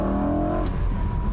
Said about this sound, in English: I put it in fourth gear and if I floor it, it pulls about as well as my diesel